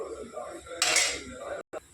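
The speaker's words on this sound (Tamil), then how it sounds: "மூடிட்டு லிட் க்ளோஸ் பண்ணி வச்சுட்டு" A pressure cooker lid is set and closed with a short metallic clank and scrape, followed by a brief clink, while someone talks over it in a home kitchen.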